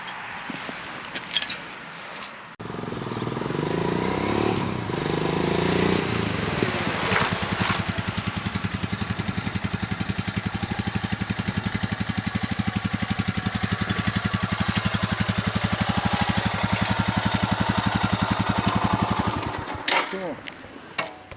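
Royal Enfield Himalayan motorcycle riding in first gear during a brake pad test, its engine running as a loud, steady, close thrum for most of the ride, with a few knocks and handling noises before it starts and after it stops.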